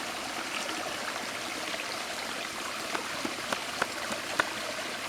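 A small stream flowing outdoors, a soft, continuous broadband rush of water with a few faint splashy ticks near the end, no talk.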